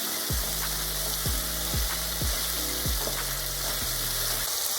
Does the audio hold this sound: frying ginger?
yes